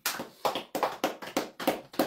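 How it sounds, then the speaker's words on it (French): Rhythmic hand claps ring out in a church service, about seven sharp, evenly spaced claps in quick succession, fairly close and clear with no talking. "applaudissons pour Jésus"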